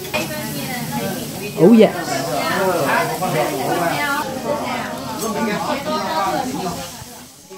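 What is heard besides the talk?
onion frying on a teppanyaki grill in Kobe beef residue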